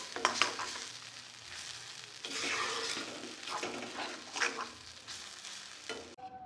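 Pea filling for kachori is stirred and dried in a pan, quiet scraping and shuffling strokes with a faint sizzle, coming in uneven bursts before stopping abruptly near the end.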